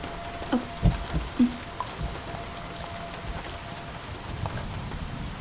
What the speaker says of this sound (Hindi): इतनी बारिश हो रही है, कहाँ जाओगी तुम?